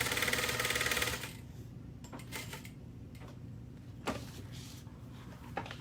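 A sewing machine stitches a quarter-inch basting seam along a fabric panel in a loud, steady whir for about a second. Fainter clicks and handling noises follow.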